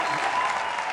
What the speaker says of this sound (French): On va applaudir pour Amano Zion